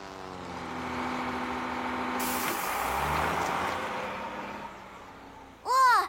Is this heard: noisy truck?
yes